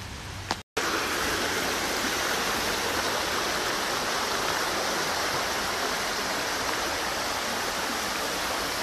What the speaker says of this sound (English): I'm not sure if like this is the waterfall coming up, but it's one for sure.